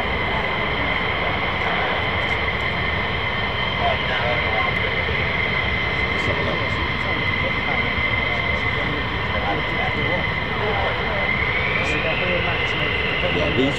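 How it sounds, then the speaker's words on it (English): An airplane making a high-speed taxi, its engines holding a steady loud drone with a sustained tonal whine throughout, close and continuous. "high speed taxi, here we go"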